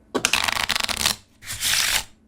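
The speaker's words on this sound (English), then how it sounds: "Let's try this shuffle" A deck of playing cards is riffle shuffled up close, with a rapid fluttering burst of about a second, then a short pause and a smoother, softer second pass as the cards bridge back together. No one talks.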